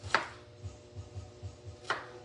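A knife chops onions into square pieces on a board. Two crisp, close chops land about two seconds apart over a soft, steady low thumping.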